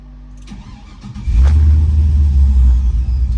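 A 1974 Chevrolet C10 pickup truck pulls away, its idling engine suddenly swelling into a loud, deep rumble as it drives off close by.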